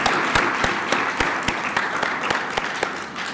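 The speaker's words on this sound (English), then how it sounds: "Round of applause for them." Applause from a crowd at an awards dinner, steady broadband clapping with sharper individual claps poking through, fairly distant and even throughout.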